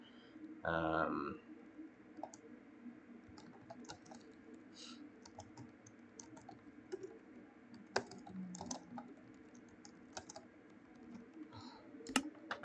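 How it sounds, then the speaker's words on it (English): Fast typing on a computer keyboard, heard as faint, scattered key clicks spread over a quiet room tone, with a short vocal sound near the start. "I type by just clicking the keys with my fingers, but I've gotten really fast at that."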